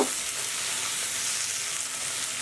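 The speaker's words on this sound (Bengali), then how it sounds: "সবগুলো ভালো করে মিশিয়ে নেব" Ginger and garlic paste and ground spices are stirred into hot frying oil for a chicken roast, giving a continuous close sizzle with a faint scraping of the stirring, and no voices.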